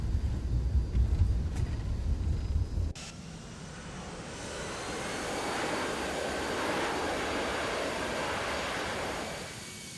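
Engines of a Toliss A319 in the X-Plane 12 flight simulator drop off after thrust is cut on landing: a loud rumble ends abruptly, then a softer, steady rolling roar swells and fades as the airliner decelerates.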